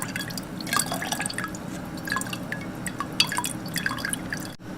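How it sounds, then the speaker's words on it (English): Homemade horchata with cinnamon drips and trickles steadily through a strainer into a container, a close, continuous wet patter over a busy background. "she's just going to keep straining it until it's all done."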